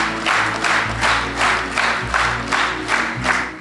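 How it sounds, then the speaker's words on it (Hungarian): An audience at an institutional jubilee ceremony breaks into sustained, rhythmic clapping, a warm wave of applause rising and falling in pulses throughout, close and full with no voices over it. "A közönség vastapsal köszönte meg Csiba Erzsébet munkáját"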